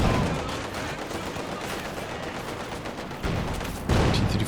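Dense rattling gunfire from tanks and infantry units in a real-time strategy battle, continuous overlapping bursts and shots, loud and steady, swelling near the end.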